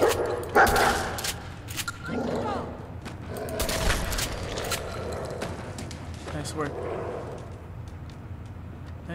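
A dog in Fallout 4 barks and yips in short bursts amid gunfire-like pops and scuffles, while voices talk over the action.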